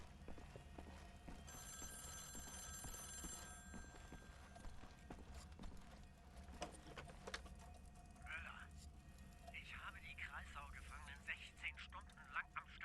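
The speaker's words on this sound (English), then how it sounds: "Someone's phone's ringing, man." A telephone bell rings in a Wolfenstein: The New Order prison level, a multi-tone ring standing out for a couple of seconds against game ambience, with talk throughout and later clattering and footstep-like sounds.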